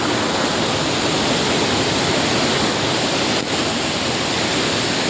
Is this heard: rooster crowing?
no